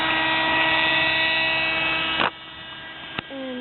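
A Raptor 30 model helicopter hovers with a loud, steady droning buzz that runs unbroken for about two seconds, then cuts off abruptly, leaving a quieter hum with a brief sharp knock near the end.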